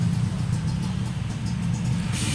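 A Mitsubishi Lancer engine idles smoothly after a repair for a plug and fuel fault, with new NGK spark plugs fitted. It gives a steady, even, close rumble with no misfiring.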